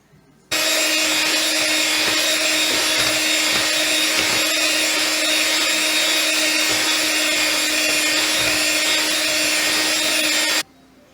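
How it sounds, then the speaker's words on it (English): Electric hand mixer whipping homemade mashed potatoes with milk, a steady, loud motor whine with a buzzing grind and faint scraping, running continuously for about ten seconds before cutting off. "I had to use my trusty old blender, mixer, whatever the hell these things are"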